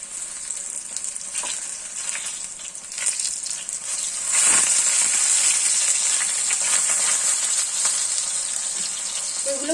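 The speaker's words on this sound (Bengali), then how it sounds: "এগুলো একটু সাবধানে ভাজতে হয়, কারণ খুব তেলগুলো মানে ছিটকে ছিটকে গায়ে লাগতে পারে" Pumpkin flower fritters frying in hot oil, a steady hiss of sizzling that swells louder midway and stays bright and close, with a few soft clinks and stirring sounds, no talk.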